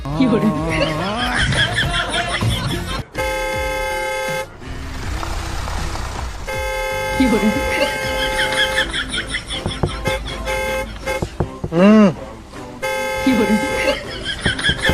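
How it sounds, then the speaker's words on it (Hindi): A car horn sounds in long, sustained blasts, set among people talking loudly and other busy background sound. "आप हॉर्न बजा रहे थे"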